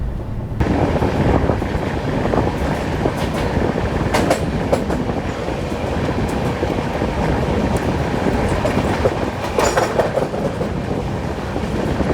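Jnaneswari Super Deluxe Express, an Indian Railways train, running on rails at night near Tatanagar Junction, with steady loud rumbling and clickety-clack of wheels over track joints throughout, plus wind buffeting.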